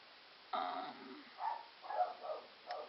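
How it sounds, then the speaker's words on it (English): A few short barks and yips from dogs, muffled and somewhat distant, scattered irregularly over a few seconds. "dogs are barking in the background"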